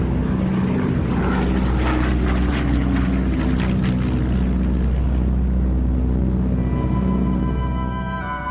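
Propeller-driven transport planes drone steadily overhead in a massed fuel airlift, a loud continuous engine roar that swells slightly and then slowly fades near the end.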